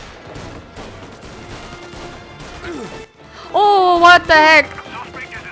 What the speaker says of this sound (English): Gunfire and an explosion reported at the Corleone Hotel.